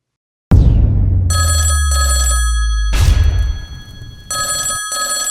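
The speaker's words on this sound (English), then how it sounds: "the fan phone is ringing" A fan-line telephone rings loudly in repeated bell bursts with short gaps between them, following a sharp thud, close to the microphone, with no talking over it.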